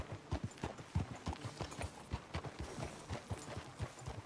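Horse hooves clip-clop steadily in Red Dead Redemption 2, a brisk, fairly close rhythm of hoof strikes on hard ground with no talk over them.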